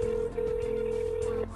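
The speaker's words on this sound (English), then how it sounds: "I made sure to record the phone call, and here's how it went." A telephone ringing tone heard over a recorded phone line, one sustained steady buzz lasting over a second before cutting off, with no talk.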